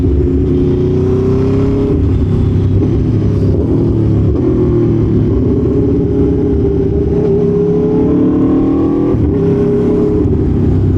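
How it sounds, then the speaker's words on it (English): An Aprilia Tuono V4 1100 Factory motorcycle engine with an aftermarket exhaust drones loudly and steadily with a deep, throaty note, rising slightly in pitch as it pulls along through traffic, close up throughout. "with this exhaust system, I'm sure people can hear us coming"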